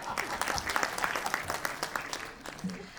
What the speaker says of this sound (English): Round of applause for Arib.